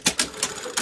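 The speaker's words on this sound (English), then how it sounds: "we're just gonna go over here to our sewing machine and we are going to sew this at 5/8 of an inch" A home sewing machine stitching a seam in a garment, giving a short burst of a few rapid, evenly spaced mechanical clacks, close and fairly loud, with no voices.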